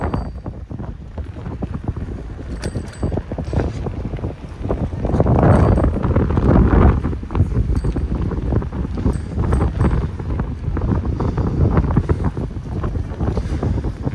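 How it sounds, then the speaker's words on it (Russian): Gusty wind on the seashore at Adler, Sochi, buffets the microphone in rough, roaring waves, swelling louder in the middle, with faint clattering and a bit of background voice. "Ветер поднимается, возможно, шторм будет."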